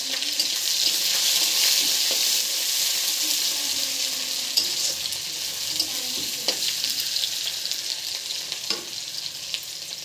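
Potatoes and eggs frying in oil in a pan, a continuous dense sizzle and hiss with occasional stirring knocks, close and steady throughout.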